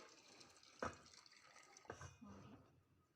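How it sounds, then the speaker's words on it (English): Excess water draining from a pot of freshly cooked rice into a bowl, a short splashing pour with a sharp spill near the start and a second trickling flow later, fairly quiet and close. "We will drain the excess water."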